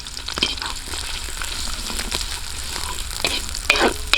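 Onions sauté in hot oil for outdoor-cooked chopsuey, a close, constant crackling sizzle punctuated by occasional stirring clatters, with no one speaking.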